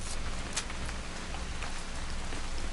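Steady rain falls in What Remains of Edith Finch, a soft continuous patter with scattered sharper drops striking a surface, fairly quiet and without speech.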